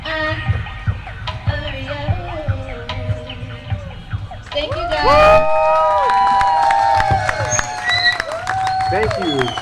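A crowd at a Brooklyn community innovation-lab event cheers and shouts for a performer over loud music, a sustained roar building midway and staying loud to the end.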